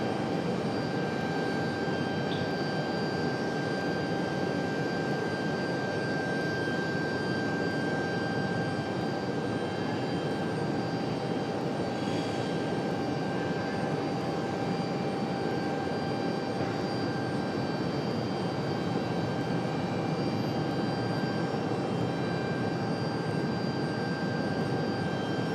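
A jet airliner departs Raleigh-Durham International Airport, its engines a steady, broad roar that holds loud and unbroken throughout, with a faint high whine running through it.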